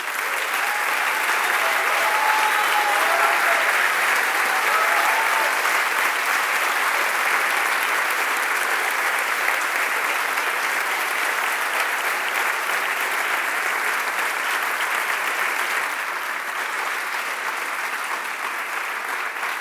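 Sustained audience applause fills a book presentation of Carla Antonelli's memoirs, loud and steady for the whole stretch, easing slightly toward the end.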